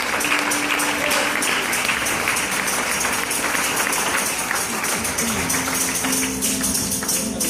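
A church congregation applauds loudly, a dense and steady wash of many hands clapping together over several seconds, with a faint sustained musical tone underneath.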